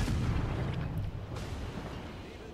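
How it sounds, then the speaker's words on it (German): Naval artillery firing from a ship in the World of Warships video game, a heavy booming blast at the start with a rumbling decay and a second fainter report, no talk. "jetzt Kamikaze R im direkten Beschuss"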